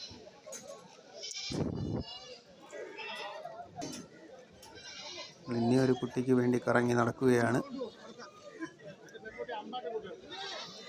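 Goats at a Kerala goat market, kept for meat, bleat in a loud cluster of wavering cries midway, with fainter calls earlier, amid crowd noise and someone talking nearby.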